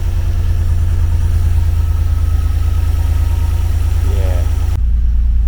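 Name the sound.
car engine idling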